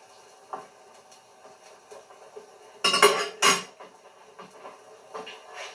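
Pork chops set into gravy in a cooking pan, heard as two louder clatters and scrapes of utensil and metal near the middle among softer taps and knocks, close and without talk.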